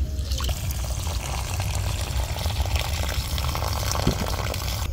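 Rice being washed in water for a homemade chicken biryani: soft steady trickling and sloshing, fairly quiet and close, continuous with small drips, no talking.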